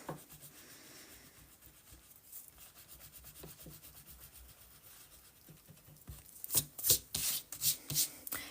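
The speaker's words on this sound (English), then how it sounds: "And then I'm going to erase this so far." Quiet, steady rubbing of an eraser across planner paper, low and continuous, turning into a run of sharper, louder scrubbing strokes near the end.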